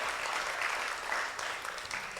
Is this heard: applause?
yes